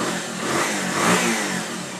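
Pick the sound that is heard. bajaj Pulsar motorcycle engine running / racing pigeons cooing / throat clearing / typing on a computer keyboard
bajaj Pulsar motorcycle engine running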